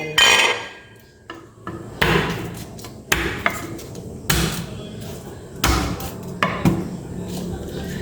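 Garlic and onion are being chopped in a home kitchen, with a handful of sharp, irregular knife-on-board knocks and clatters separated by short quiet gaps.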